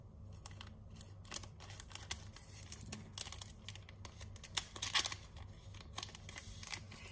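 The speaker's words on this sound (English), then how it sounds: "I found my scissors." Scissors snip open a Japanese Pokémon card pack in a quiet room, with a series of sharp, close cuts and rustles of foil wrapper spaced irregularly, fairly soft overall.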